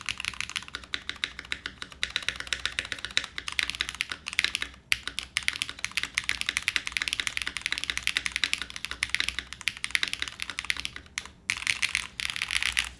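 Steady, rapid keyboard typing fills the whole stretch, crisp clacky keystrokes in a continuous flow with only a couple of brief pauses, close and clear.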